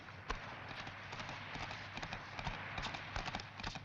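Horses gallop away in a rapid, uneven clatter of hooves at moderate distance, busy and continuous throughout, with no voices over them.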